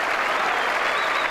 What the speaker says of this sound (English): some applause for that player